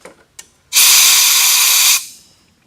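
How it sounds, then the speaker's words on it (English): A strong burst of compressed air blows drill chips clear during aircraft spar drilling, a steady loud hiss of about a second and a quarter after a couple of small clicks. "just blow any chips out so they aren't getting in the way"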